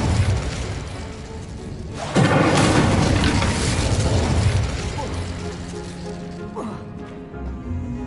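Spells Expelliarmus and Incendio are cast in Hogwarts Legacy, with a sudden booming burst of magical impact that lingers in a noisy rumble, while a voice calls out over the effects.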